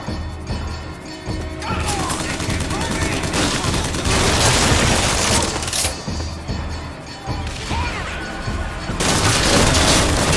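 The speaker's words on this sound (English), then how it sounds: "Watch out, rockets!" Rocket blasts and gunfire in BioShock Infinite: loud booming explosions and crashing impacts burst repeatedly amid rattling shots, dense and chaotic throughout.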